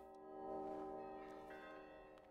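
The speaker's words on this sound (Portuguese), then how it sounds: "É o barulho do sino que vai derrotá-lo." A deep bell rings in a video game, its low tone humming and slowly decaying, faint and distant, with a few soft higher chimes passing over it.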